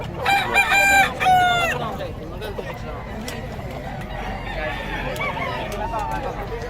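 A rooster crows loudly up close, a long harmonic call, followed by a noisy background of murmuring voices and outdoor bustle.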